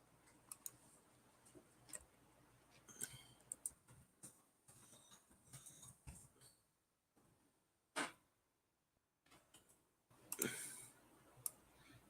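A small pet rustles and taps around a cardboard toilet paper roll, scattered faint clicks and scratches with a few louder knocks, close by in a quiet room.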